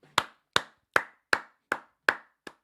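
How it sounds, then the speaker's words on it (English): One person claps their hands seven times in a steady, evenly spaced rhythm, sharp close slaps with quiet gaps between them and no voices. "gets a round of applause from me"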